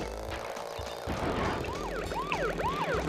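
In the Crash Bandicoot 3: Warped video game, a police car siren wails in rising and falling sweeps over steady game music and effects, becoming prominent in the second half.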